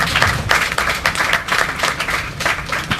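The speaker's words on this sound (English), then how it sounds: "let's give them a big round of applause as well" Crowd applause at a memorandum of understanding signing ceremony, dense and sustained clapping from many hands, loud and close throughout.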